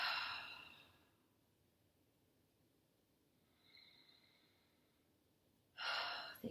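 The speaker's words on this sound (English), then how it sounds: "Take a couple of deep breaths in and out." A slow, deep breath drawn in and released at the close of a gentle yoga session, soft and near, with a quiet lull between the breaths and no talk.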